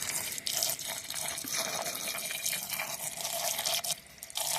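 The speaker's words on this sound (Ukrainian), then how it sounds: "Але я додаю дистильованої водички." Distilled water is poured during silver refining, a close, steady stream of splashing liquid with a few brief breaks and no voices.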